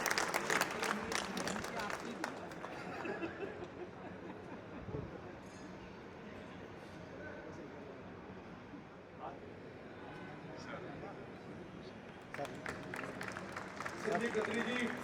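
Guests at a Rohini Court felicitation ceremony are greeted with long, steady applause from a large crowd, thick rapid clapping that thins in the middle and rises again near the end, with voices heard over it.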